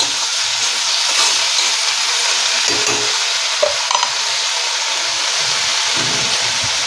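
Fenugreek leaves being stirred in a hot pan, a steady close sizzle and hiss with a few soft scraping strokes throughout.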